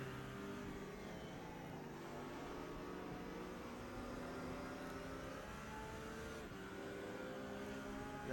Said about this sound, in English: I think I can hear the Mercedes ahead